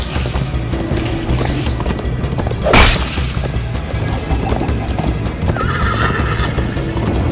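Horse hooves clip-clopping at a fast gallop in Minecraft: Story Mode, with a sharp whoosh midway and game-like ambient noise throughout.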